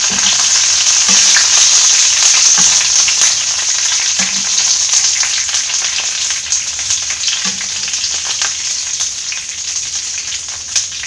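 Green chilies sizzle and fry in hot oil in a pan for Kerala-style papaya thoran, a steady loud crackle with soft stirring bumps recurring every second or two.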